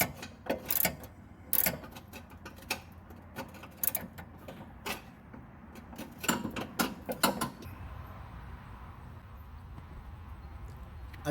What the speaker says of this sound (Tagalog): Torque the stabilizer link to 29 foot per pound.